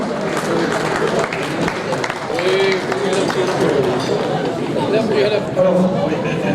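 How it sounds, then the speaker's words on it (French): An audience applauds at a 40th-anniversary gathering of the Peña Taurine club in Mugron, with steady dense clapping and crowd chatter throughout while a voice talks over it. "On peut l'applaudir effectivement."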